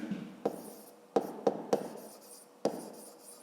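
Close pen-on-paper writing for a fifth-grade maths solution, several quick separate strokes and taps in an uneven rhythm, with no voice over them.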